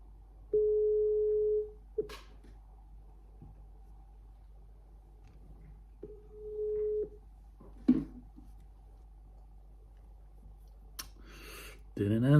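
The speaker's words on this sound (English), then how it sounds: "gonna make a phone call right here" An outgoing telephone call ringing out unanswered, two long steady ring tones several seconds apart in an otherwise quiet room, with a few soft clicks and handling noises between them.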